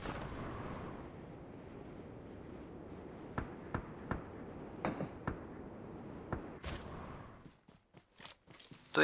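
Gunfire in PUBG played on an iPhone 14 Pro Max: sharp, sparse shots crack one by one over a low game rumble, growing quicker and denser near the end.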